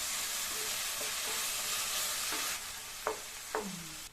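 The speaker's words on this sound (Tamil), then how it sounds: "தக்காளியையும் லேசாக வதக்கிட்டு" Tomatoes and onions are sautéed in a pan for pulao, with a steady loud sizzle and a few sharp scrapes of stirring near the end.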